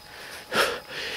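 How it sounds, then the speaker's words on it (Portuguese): Heavy breathing after a long walk: a single loud breath or wheezing exhale swells briefly over a quiet background, close to the listener. "Se a respiração estiver um pouco alta"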